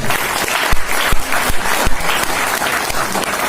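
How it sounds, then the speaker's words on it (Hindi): A seminar audience in Hansi claps loudly and steadily, with a few sharper claps standing out, filling the whole stretch without any voices. "इनके लिए जोरदार तालियां बजाएं।"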